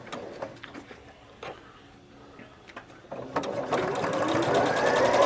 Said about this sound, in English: This is all straight sewing.